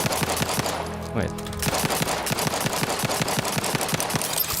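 Rapid pistol fire from The Outer Worlds 2 cracks out in a fast, steady string of about twenty shots over loud game ambience, with one brief spoken word partway through.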